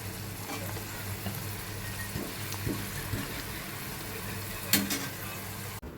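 Shev chivda ingredients with cumin, chillies and mustard seeds fry in hot oil, giving a low, steady sizzle with faint stirring. A few soft knocks are heard and no one speaks.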